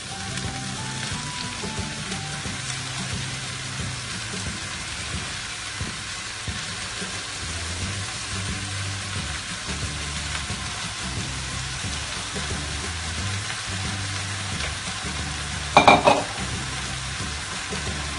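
Chopped spinach sizzles and crackles steadily in a hot pan for a long stretch, with occasional stirring and a brief clatter near the end.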